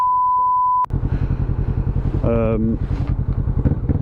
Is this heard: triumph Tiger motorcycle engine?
yes